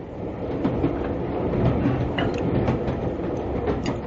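Steady rolling rumble of a train travelling along rails, a radio drama sound effect, continuous and fairly loud with faint rhythmic clicks over the wheels and no voices.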